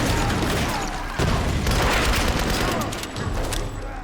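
Rapid assault rifle fire and a grenade blast from the Tomb Raider game rattle in dense bursts with a heavy boom, while someone talks over the gunfire.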